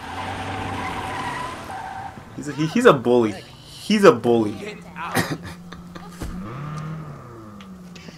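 Car engine and tire noise from the Watch Dogs 2 video game run under loud, excited talking, with a few sharp skid-like bursts and a low engine drone in between.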